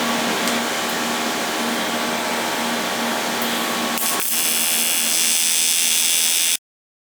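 Welding a bar onto a plate of an E Ride Pro electric bike's rear subframe makes a continuous harsh buzzing crackle, steady and close, with a slight shift midway before it cuts off abruptly.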